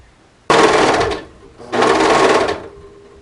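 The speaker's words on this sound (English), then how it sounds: "make sure I don't serge over my pin" A serger stitches a sweater-knit cuff onto a cardigan in two loud, close bursts of rapid whirring, each about a second long, separated by a short pause.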